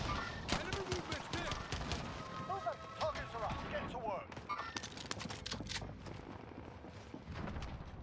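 Rapid bursts of gunfire in a Resurgence duos video game match crackle and pop in dense clusters, with chaotic impacts layered over a busy, noisy background.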